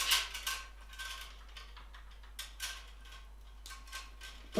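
A disc brake hose is drawn through the rear end of a carbon bike frame, giving a few close, scratchy rubbing and clicking bursts separated by short quiet gaps.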